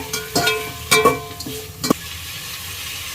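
Tomatoes and onions are sautéed in a pan for a brinjal and ridge gourd sambar. Sharp, loud spatula scrapes and knocks come at uneven intervals over a low sizzling bed, up close with no voices.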